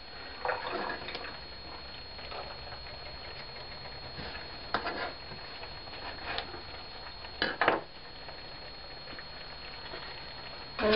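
Carrots stirred in a cooking pan for a pasta dish with chicken, mushrooms and walnuts in cream sauce, a steady soft sizzle broken by a few brief scraping and clacking strokes of the utensil.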